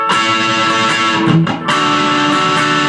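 Electric guitar riff from a song, played as a steady, close, bright run of ringing notes with a brief dip midway before continuing.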